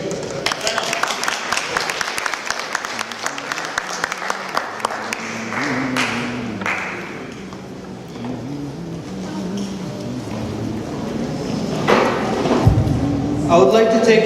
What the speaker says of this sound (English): let us give a round of applause to Pratham Martini